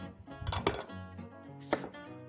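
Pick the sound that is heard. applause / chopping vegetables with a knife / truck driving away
chopping vegetables with a knife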